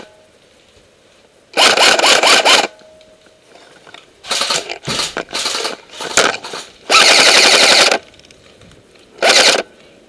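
Paintball guns firing at an outdoor game, several loud bursts of rapid shots separated by short quiet gaps, close and sharp.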